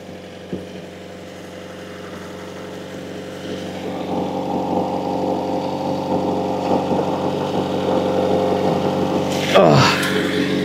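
An engine on a Toyota Corolla 4WD barn find parked 16 years, idling steadily while drawing fuel straight from the tank, a close, even hum that slowly builds, with a brief clatter near the end.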